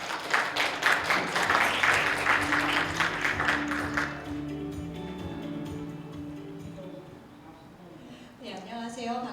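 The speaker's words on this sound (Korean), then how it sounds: "그럼 박수로 맞이하겠습니다." An audience at a Korean forum session claps to welcome a law professor to the stage, with moderate applause for about four seconds that then fades while a voice speaks.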